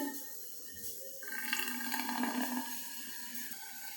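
Warm water poured into a flask holding baking soda and vinegar, a soft close trickle and hollow filling sound that swells briefly and then settles, quiet with no speech.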